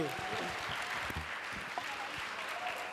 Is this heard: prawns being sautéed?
no